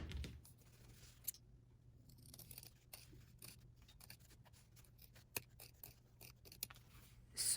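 Scissors trimming a fabric seam on small doll pants, faint close snips and rustles in an irregular sequence over a quiet background with no voices.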